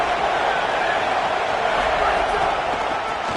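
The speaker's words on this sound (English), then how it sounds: "This crowd ready to make its presence known." A football stadium crowd roars in a steady, dense wash of noise throughout, loud and unbroken, with no clear individual voices standing out.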